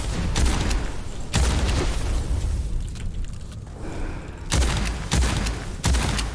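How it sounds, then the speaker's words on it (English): Grenade blasts from armoured knights in the video game Witchfire land as a series of heavy, booming bursts separated by short lulls, loud and close, with rumbling combat noise throughout. "And I hear knights with grenades."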